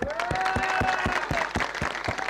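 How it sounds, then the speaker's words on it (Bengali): Crowd applause for the film actor Dipjol at a Bangladeshi election rally, rhythmic claps running steadily under a sustained tonal voice or horn line, loud and continuous throughout. "ওনার জন্য জোরে একটা করতালি দিয়ে দেন"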